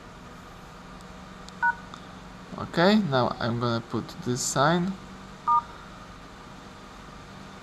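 Touch-tone keypad beeps as code 4636 is entered on a Motorola Moto X, a quick run of distinct tones clustered mid-clip with a couple of isolated beeps before and after, under a voice talking.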